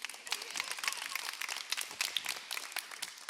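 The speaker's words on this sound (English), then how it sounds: "you can clap for David" An audience at a live podcast recording for a card game release claps for a guest, producing dense, continuous applause with sharp individual claps throughout, moderately loud and steady from start to finish.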